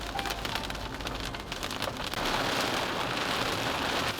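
Rain falling in Oman, a steady dense patter on surfaces that grows heavier partway through, with no voices.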